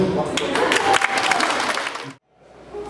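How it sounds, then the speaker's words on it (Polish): Wedding party guests applaud volunteers for a game, a lively burst of close, crowded clapping with some voices mixed in, cutting off sharply after two seconds before quieter room noise returns. "brawa dla ochotników"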